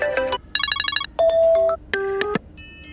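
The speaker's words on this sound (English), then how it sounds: "by clicking on any, you see a little preview of what it sounds like." An iPhone 14 Pro default ringtone preview plays as a short electronic melody of bright, tonal beeps and chimes in quick successive phrases, clean and alone with no talk.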